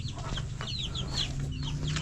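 Chickens and chicks clucking and peeping in short bursts over a steady low hum, close by; a few chicks kept in an enclosure on a Filipino backyard farm.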